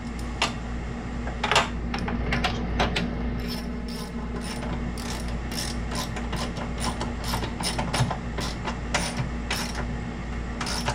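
Radiator on a Ford Ranger being tightened down with a hand ratchet: rapid, repeated metallic ratchet clicks in short bursts, close and fairly loud over a steady low hum, with occasional sharper clinks.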